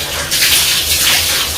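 Tap water gushes steadily while hair is wetted before applying a hair mask, a loud continuous splashing hiss with no talking.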